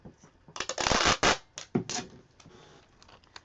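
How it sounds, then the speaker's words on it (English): Packing tape crackles and rips as it is pulled and handled during craft work, a run of close, loud tearing bursts in the first half that fades into softer rustles. "Now, packing tape."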